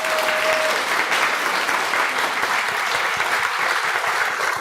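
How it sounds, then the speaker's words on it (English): An audience at a Buddhist temple gathering applauds children who practiced at camp, a steady dense wash of clapping throughout, loud and even with no clear pauses. "Give them big applause who practice with us today."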